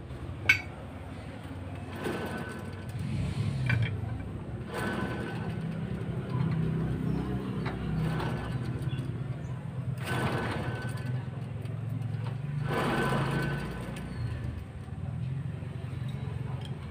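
Worn, noisy wheel hub bearing on a Mitsubishi L300, heard as a steady mechanical grinding and rumbling hum with intermittent clicks and clinks from the hub assembly, fairly close and continuous throughout.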